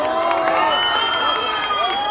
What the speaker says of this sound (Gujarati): તમારા માટે એકવાર પ્લીઝ તાળીઓ પાડી દો